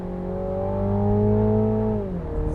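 A Mini GP3 engine revs hard in a low gear, one strong rising-then-steady tone held close and loud before the pitch drops away as the revs fall.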